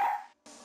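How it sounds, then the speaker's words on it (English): A dog in the Ace Attorney video game gives two short, close barks separated by a brief gap, with no talking. "Look, Nick, cute dog."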